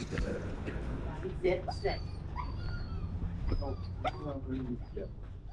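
A dog whimpers and yips in a store, with high thin whines and short cries scattered through steady chatter of people talking nearby.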